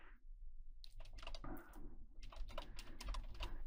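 Close, steady typing on a computer keyboard, with rapid key clicks in short bursts and brief pauses, alone with no voices.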